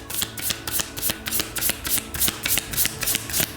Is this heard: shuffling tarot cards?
yes